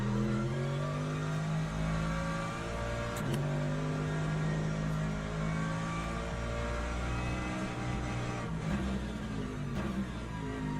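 Hypercar engine in the Le Mans Ultimate racing game at Sebring in the rain, a steady loud drone with harmonic whine that rises and falls through gear changes, continuous and close throughout.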